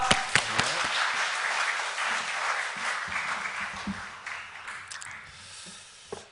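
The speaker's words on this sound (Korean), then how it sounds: "우리 이 시간 우리 강사 목사님 나오실 때 우리 할렐루야로 우리 박수로 우리 맞이하시겠습니다" Congregation at a church revival service applauds to welcome the guest pastor, a dense wash of clapping with a few sharper close claps that gradually thins and fades toward the end.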